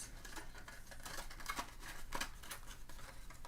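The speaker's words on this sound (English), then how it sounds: "you could always give it more snips" Scissors make quiet, quick snips through a paper treat-box lid during a fall craft project, a steady run of soft cuts heard alone and close.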